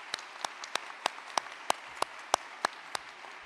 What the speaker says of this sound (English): If you would please help me give them a round of applause.